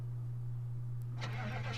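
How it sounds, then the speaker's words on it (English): A car engine in the video game Project Zomboid struggles to start, with a steady low hum under intermittent cranking bursts that build toward the end of the short, fairly faint clip. "As you can see, it takes a long time for this car to start."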